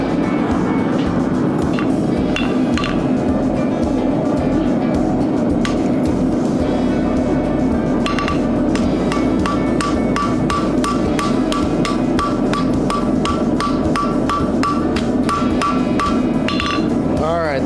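Rapid ringing hammer blows strike hot damascus steel for a chef's knife on an anvil in steady repeated bursts, loud and close over a constant roaring background.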